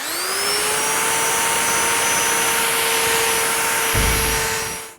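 A machine sanding pad whirs steadily against a wet headlight lens during resurfacing, a loud continuous whine close by that runs the whole time and winds down at the end.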